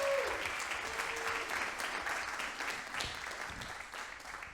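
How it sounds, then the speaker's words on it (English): An audience applauds steadily at a celebration fundraiser, a dense wash of clapping that holds for several seconds and slowly fades, with brief faint voices underneath. "Let's give everybody who has given thus far a big round of applause."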